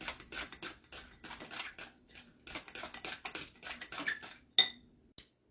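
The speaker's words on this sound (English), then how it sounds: "Next we add flour and just mix it in." Flour is stirred into banana fritter batter in a bowl, a utensil scraping and tapping against the sides in quick rhythmic bursts, close and fairly quiet, with a few sharper knocks near the end and no talking.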